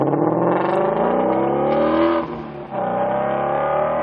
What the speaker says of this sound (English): the firing order with the flat plane crankshaft combined with our exhaust manifolds and the vehicle exhaust system provides a very,